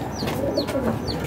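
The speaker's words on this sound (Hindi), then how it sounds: "ये बड़ा आउटस्टैंडिंग किस्म का कबूतर है" A fancy pigeon kept at a pigeon club coos nearby in a short series of soft, repeated calls.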